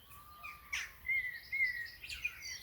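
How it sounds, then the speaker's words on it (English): Small birds chirp in short, faint tweets and bright calls scattered across quiet open countryside in the Lake District. "Birds relentlessly chirping, cuckoos, baying sheep."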